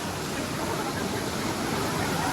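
Waterfall at Hathini Mata with swollen, rising water, a steady broadband roar of rushing water that stays constant and close throughout.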